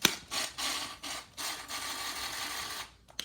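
M5 screws being driven through a plate with an M4 Allen wrench, giving close, quiet rasping turns in several short bursts, each with a brief click, over a few seconds.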